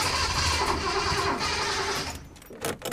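A Datsun 240Z that is hard to start cranks loudly on its starter in a steady whirring run, then drops off near the end, followed by a brief mechanical clatter.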